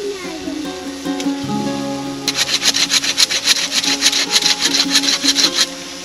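A hand saw cuts a tree branch outdoors in a village, by a chicken coop, for making perches. It starts with quiet handling, then settles into a steady run of rapid, rhythmic rasping strokes that come close and fairly loud, then stops abruptly.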